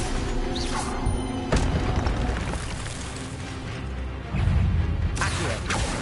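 Incendio fire spell cast in a Harry Potter video game at Hogwarts, a loud broadband whoosh and crackling burst with sharp impacts near 1.5 and 4.3 seconds over a busy game soundscape.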